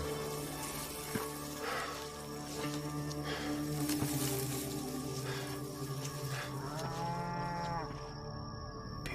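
Cattle low repeatedly, long drawn-out moos overlapping against a soft watery background, with one clear bellow rising near the end.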